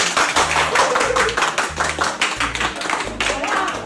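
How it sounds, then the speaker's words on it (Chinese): Guests clap together at a marriage proposal gathering, a brisk run of overlapping handclaps with rhythmic low thumps running beneath and voices mixed in. "大家掌声拍好啊！"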